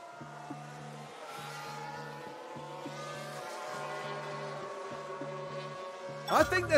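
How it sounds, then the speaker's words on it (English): Race car tyre lock-up in the F1 Manager video game, 1991 season mod: a steady engine drone over a repeating low electronic pattern, then a brief, sharp screech of locked tyres bursting out loudly right at the end. "I think there's been a lock-up."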